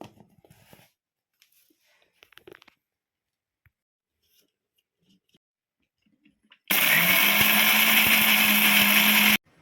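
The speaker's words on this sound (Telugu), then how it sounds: "ఇప్పుడు మిక్సీ పట్టుకుందాం" Mixer grinder blitzing dried red chillies and garlic into a coarse chilli-garlic powder, starting abruptly after quiet kitchen handling sounds and running loud and steady with a whining motor drone to the end.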